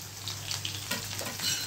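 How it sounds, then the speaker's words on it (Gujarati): Sliced onion dropped into hot tempering oil with dried red chillies and curry leaves, a soft, steady sizzle and crackle with faint stirring, close by and without talk. "આ ડુંગળી વઘારમાં મૂકી છે."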